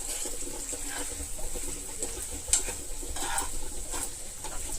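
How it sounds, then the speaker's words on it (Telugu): Pieces frying in a thick gravy over high heat, a steady close sizzle with soft stirring scrapes running throughout, with no talking. "అది పూర్తిగా ముక్కలకు పట్టే వరకు మనం ఫ్రై చేసుకోవాలి హైలోనే ఫ్రై చేసుకోవాలి"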